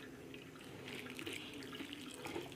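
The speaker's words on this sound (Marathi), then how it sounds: "वरून आणखीन एकदा गार पाणी घालून हे धुवून घ्यायचं" Cold water poured over freshly made homemade paneer to rinse it, a steady, fairly quiet stream of running water splashing without pause.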